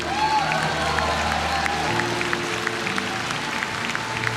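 Worshippers at a church service give a clap offering, producing continuous crowd clapping over soft sustained music and steady and moderately loud from start to finish.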